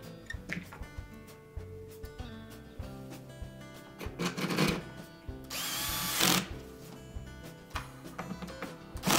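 A power drill drives screws during a Whirlpool dishwasher door latch repair, with short whirring bursts, one longer louder run in the middle and clicks and knocks of handling between them, fairly close.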